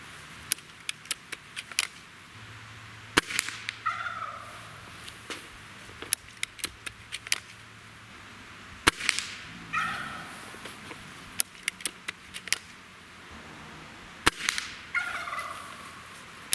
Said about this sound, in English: My turkey's going crazy